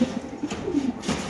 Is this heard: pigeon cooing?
yes